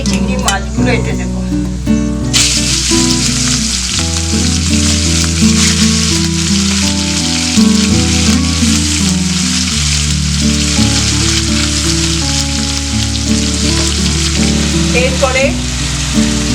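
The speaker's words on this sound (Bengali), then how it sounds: "এবার আমি এই চিংড়ি মাছগুলো এতে দেবো।" Shrimp fry in a pan of hot oil with cumin seeds, dried chilli and bay leaf, a loud, dense, continuous sizzle that stays steady throughout, with background music playing underneath.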